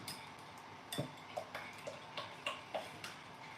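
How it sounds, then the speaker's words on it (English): A spoon stirs sweet and sour sauce in a pot, making faint, evenly spaced clinks and taps against the metal, about one every half second, with no talking. "stir the sauce."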